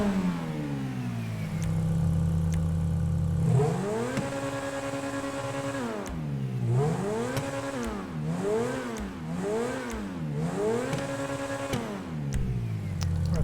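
A Grotti Turismo R supercar fitted with a race exhaust revs hard in GTA Online, climbing and falling in a rising sustained tone and then in a series of quick repeated blips.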